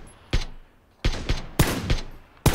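Loud gunfire in PUBG: several sharp, close shots with short gaps, some coming in quick pairs, each followed by a brief echoing tail.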